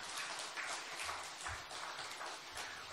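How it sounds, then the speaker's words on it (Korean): Church congregation clapping at a Friday late-night prayer meeting, a faint, thin patter of hands sounding distant and somewhat half-hearted, with no talk. "박수 한번 치세요."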